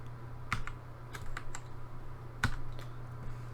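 Typing on a computer keyboard at a steady pace, with soft key taps and a few sharper clicks over a low electrical hum, close and fairly quiet.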